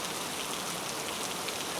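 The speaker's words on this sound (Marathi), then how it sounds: "मुसळधार पाऊस पडतोय" Heavy monsoon rain pours in Navi Mumbai, making a loud, dense and steady hiss with no other sound.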